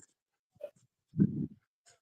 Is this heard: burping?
no